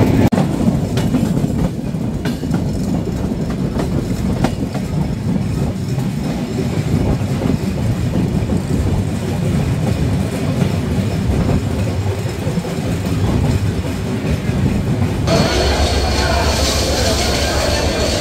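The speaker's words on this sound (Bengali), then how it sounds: "ট্রেনটি এই মুহূর্তে প্রবেশ করছে তার দ্বিতীয় যাত্রাবিরতি station Ishwardi junction railway station" Loud, continuous rumble of the Kapotaksha Express passenger train entering Ishwardi Junction station in Bangladesh, with rhythmic clatter and faint wheel squeal, close and steady throughout.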